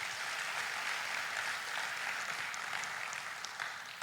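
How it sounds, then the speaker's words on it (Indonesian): Church congregation applauding in worship to honour God, a steady even wash of many hands clapping for about four seconds, moderately distant and sustained without any talking. "berikan tepuk tangan buat Tuhan"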